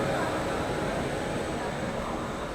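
Simhapuri superfast express train led by a Royapuram WAP7 electric locomotive pulling away from Vijayawada railway station, a steady, dense rumble and roar of moving coaches running continuously and close.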